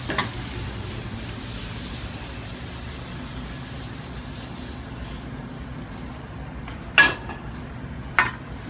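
Hot burrito filling is stirred in a pan, a low steady sizzle running throughout, with two louder clanks of a utensil against the pan near the end and no voices.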